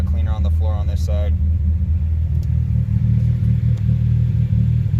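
A 1993 Honda Civic with a turbocharged D15B VTEC engine idles warm, slightly above 1,000 rpm, giving a loud, steady low rumble close by, with a brief voice over it at the start.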